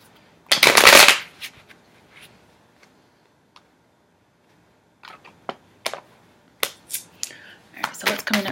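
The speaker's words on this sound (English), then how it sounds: "Leos don't want to shuffle, apparently." Tarot cards are being shuffled up close. It starts with one loud riffling burst, then goes quiet, then comes a run of sharp card flicks and snaps.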